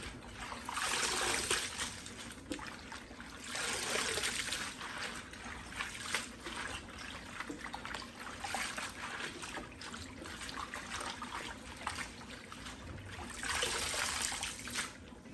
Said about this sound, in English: don't be scared to get your hands in there. It's all clean. We're just getting the greens clean.